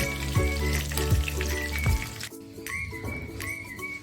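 Chicken pieces frying in hot oil for Chicken Manchurian, a loud, steady sizzle and crackle close by, with bursts of bubbling as a batch goes into the pan.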